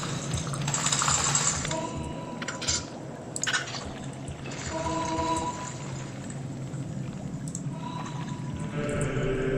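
Water sloshing and trickling through a dungeon in the game Dungeon Keeper 2, a continuous liquid wash with scattered drips and watery tones running steadily at moderate level.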